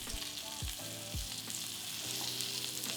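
Garlic butter shrimp sizzle steadily in a pan with a constant close fry hiss, and a few low thuds and scrapes come through early on.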